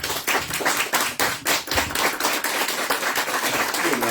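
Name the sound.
applause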